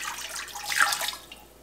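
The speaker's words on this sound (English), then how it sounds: "now we add in our citric acid water." Citric acid water is poured into a pot of milk for homemade mozzarella, making a brief, soft liquid splash and trickle that fades after about a second.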